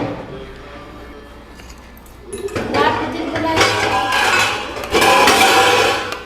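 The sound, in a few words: clatter of a pan being taken out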